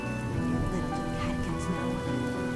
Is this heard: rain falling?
yes